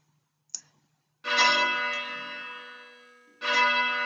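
A simulated church bell, triggered from a keypad key in a listening exercise for ringing rounds on six bells, rings out in two long, clear tones with a sharp click just before the first.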